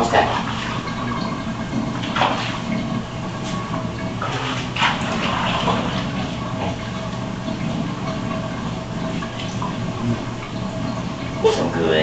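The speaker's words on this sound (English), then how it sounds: "Let the water out." Bath water draining from a tub after a pet cat's bath, a steady gurgling wash of water under occasional soft bumps and a voice talking nearby.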